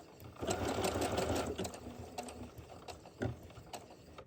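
A sewing machine stitches a button in place, starting with a quick burst of rapid needle clatter, then slowing into separated mechanical ticks and clicks as it finishes, close and without talk.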